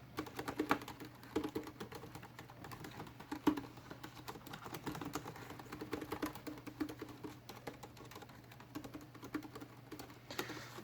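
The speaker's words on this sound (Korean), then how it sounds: "키보드 치고는 상당히 쫀득합니다. 키감이 나쁘지 않아요." Keys clatter on a white Lenovo IdeaPad L3 laptop keyboard in a run of quick, soft, slightly springy taps, close and fairly quiet over a low steady hum.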